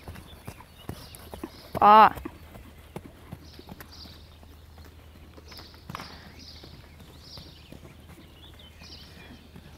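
Horses walk over ground poles during a riding lesson, their hooves clip-clopping in a steady, moderately close rhythm while an instructor speaks briefly over them.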